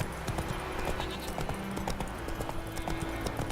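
Hooves of Roach, the horse in The Witcher 3 video game, clip-clop at a steady galloping rhythm over a continuous game soundscape of wind and ambient music.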